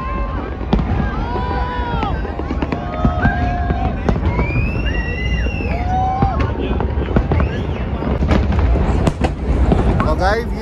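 Loud fireworks over Sydney on New Year's Eve bursting repeatedly with deep booming bass, sharp cracks and crackles over a constant rumble, with excited voices and whistles in the background.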